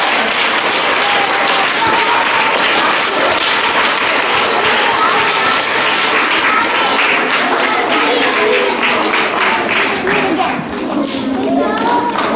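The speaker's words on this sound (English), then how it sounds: "Let's give all of our stars a big round of applause." Children at a school assembly clap for the stars of the week, a loud, dense, continuous round of applause from a large group filling the hall, with faint young voices mixed in.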